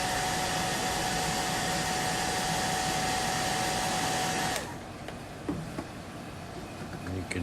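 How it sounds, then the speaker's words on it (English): An old hairdryer blows hot air onto a plastic part with a loud, steady whirring roar that cuts off abruptly partway through, leaving quiet room noise and faint handling sounds. "If you've got an old hairdryer laying around, it'll work just fine"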